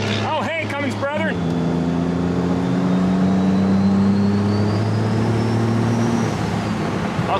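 Cummins diesel truck engine with dual S400 compound turbos revving hard, a brief voice at the start giving way to a loud, rising engine roar and turbo whistle that holds for several seconds.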